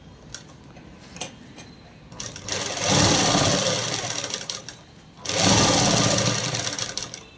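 Sewing machine stitching cloth: two loud, rapid mechanical whirring runs, each lasting a few seconds, separated by quieter ticking and handling sounds, close to the listener.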